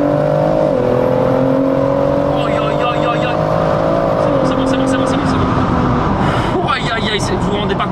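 A 1000 hp turbocharged BMW M140i pulls hard, its engine note holding loud and steady, then easing as the throttle lifts while the turbo keeps whirring. Brief chirps and clatter follow, with people talking over it.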